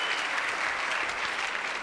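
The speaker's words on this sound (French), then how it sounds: "Applaudissements pour notre cascadeur." A studio audience at a French TV variety show bursts into steady, dense applause for a stuntman. The clapping stays loud and even for the whole two seconds, with no break.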